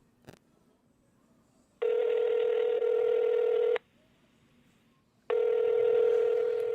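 A telephone handset sounds two long, loud steady tones separated by a pause while calling someone back, preceded by a brief click, with near silence between the tones.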